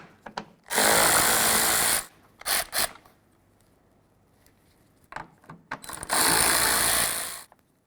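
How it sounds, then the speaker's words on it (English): A power tool whirs in two bursts of about a second each, backing 10mm bolts out of the grille of a fourth-generation Ford F350, with short clicks and handling noises between, close and loud. "So we're going to remove our 10mm headed bolts right in here."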